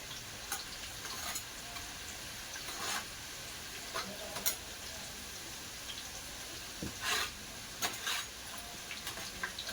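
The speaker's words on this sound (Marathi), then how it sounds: "मिरची पण आपल्याला एकदम कडक तळायची आहे" Green chillies fry crisp in an iron wok, a soft continuous sizzle with scattered crackles and spits popping up now and then, fairly faint and steady throughout.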